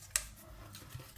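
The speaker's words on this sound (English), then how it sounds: "I'll just cut that away" A single crisp snip from a close, quiet cut through a piece of model material on a Star Wars Treadspeeder display base, followed by faint handling noise.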